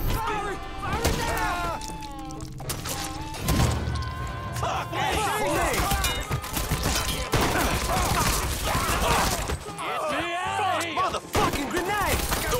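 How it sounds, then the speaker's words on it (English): Gunfire in the video game Mafia III during a hotel shootout, bursts of shots, thuds and crashes mixed with frantic shouted dialogue and a music score, loud and busy throughout. "Start firing and don't stop! Fire! Fire now!"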